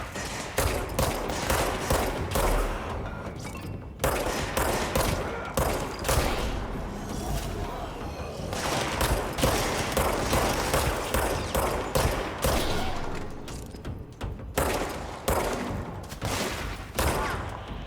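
Dense, sustained gunfire from the video game Control: rapid overlapping shots and bursts fire almost nonstop, loud and close, with only brief pauses.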